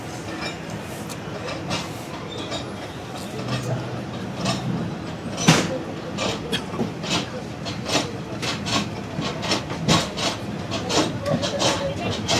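Zakriya Express pulling out of Liaquatpur railway station, a steady rumble of railcars with repeated clacks and knocks over the rails and a sharp bang midway, with voices talking faintly underneath.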